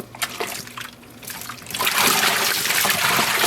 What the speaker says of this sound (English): let's add some dish soap and fill this up